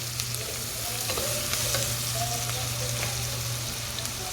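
Onions fry in a pan with a spoonful of garlic ginger paste while being stirred, a soft continuous sizzle with light scraping, faint and close, no voices.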